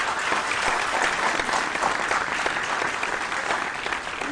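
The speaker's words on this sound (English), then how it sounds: "A round of applause." A round of applause for a senior high school quiz team at a televised science quiz, a sustained dense wash of clapping from the audience at steady loudness with no talk over it.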